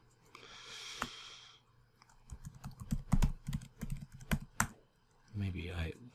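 Someone types on a computer keyboard in an irregular run of clicky keystrokes lasting a few seconds, with faint talk before and after and quiet room noise.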